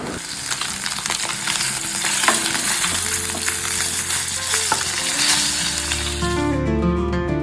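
Cooked meat with pre-fried potatoes and raw garlic sizzles steadily in a hot pan, a loud continuous frying hiss with scraping stirring sounds.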